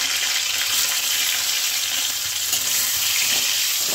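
Potatoes frying in oil on a low-to-medium flame give a steady, close hiss of sizzling that holds constant throughout, with no voices.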